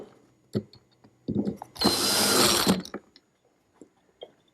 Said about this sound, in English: I'm using a drill bit to drop it down into the center left by the drive center of the lathe